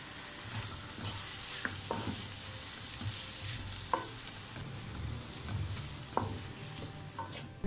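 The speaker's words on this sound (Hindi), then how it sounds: "इस मसाले को हम अच्छी तरह से भून लेंगे" Chili powder and turmeric masala being roasted in a pan for chicken gola kabab, a continuous soft sizzle with intermittent spoon scrapes and knocks against the pan, close and fairly quiet.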